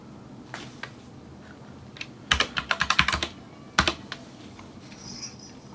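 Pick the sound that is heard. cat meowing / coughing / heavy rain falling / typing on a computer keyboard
typing on a computer keyboard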